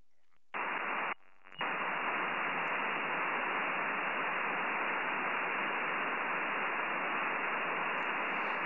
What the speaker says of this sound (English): Sounds like my signal took a dive down to the noise floor.